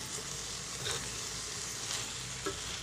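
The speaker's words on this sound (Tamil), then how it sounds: "இப்போ நம்மளுடைய கீரையை கொஞ்சம் இந்த மசாலாவோடு வதக்கி விட்டுட்டேன்" Spinach and potato stirred through masala in a hot pan, giving a steady, soft sizzle with light scraping of the spoon, close and continuous without talk.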